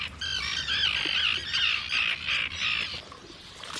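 A purple swamphen at the wetland lagoons of southern Córdoba near Puente Genil gives a run of about six loud, harsh, nasal squawks in quick succession, fairly close and with no other sound over them.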